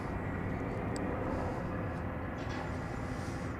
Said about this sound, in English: That's FlexJet Flight 335, an Embraer Praetor 500 off to Midland, Texas.